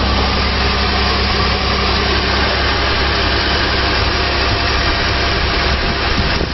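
A car engine idles steadily and loudly up close after its bearing and pulley were replaced, giving a smooth, even, continuous drone with no knocks or squeals and no talking.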